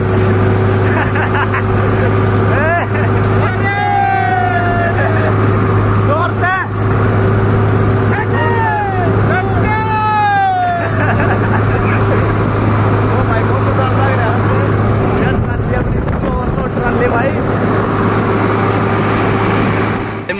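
Tractor engine, a Farmtrac 45 or Swaraj 744 XT, labours steadily while hauling a heavily overloaded trolley, droning loud and continuous throughout as people talk and shout over it.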